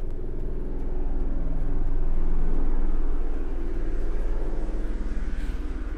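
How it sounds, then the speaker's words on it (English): A helicopter drones overhead, a steady low rumble that swells toward the middle and eases off slightly, with no talking. "Sorry, let me let that helicopter go away right now."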